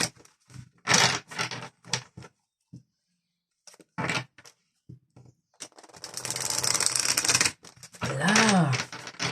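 An angel tarot deck is shuffled and cards are drawn: short papery taps and flicks, then a longer rustling riffle and a final burst of card handling, with quiet gaps between.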